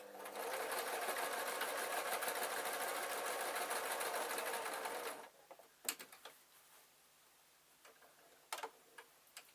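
A sewing machine stitching a peg bag, a loud, fast, steady whirring run of stitches for about five seconds, then stopping, followed by a few faint clicks and small handling taps.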